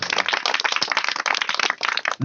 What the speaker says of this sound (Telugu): ప్రభు నామాన్ని గట్టిగా చప్పట్లు కొడదామా?